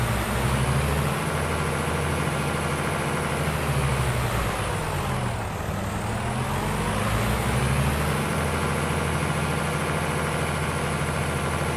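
A slow tractor drives through a field in Farming Simulator 25, giving a steady loud engine rumble with a low droning hum and a brief pitch dip midway, with no talk over it.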